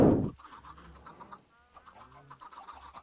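Chickens clucking in the Minecraft video game, a few soft scattered clucks and short bird calls after a brief loud thump at the start, faint against quiet game background.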